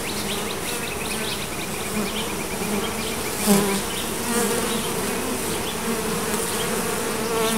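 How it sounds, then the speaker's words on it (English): Bees buzz steadily and close around a hive entrance, a dense continuous insect drone with one brief louder swell near the middle, no voices. "Now let's see how the bees react."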